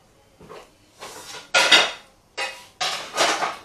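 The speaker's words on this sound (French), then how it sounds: "Je vais venir prendre une crêpière" A metal crêpe pan is lifted and set back down in a home kitchen, giving five or six close, sharp clanks and clatters spread over a few seconds, with short quiet gaps between them.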